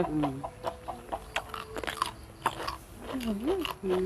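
Someone eats a spicy, crunchy Thai squid salad up close, with repeated crisp bites and chewing crunches mixed in with ongoing conversation.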